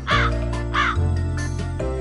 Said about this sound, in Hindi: कौवा बोले काव काव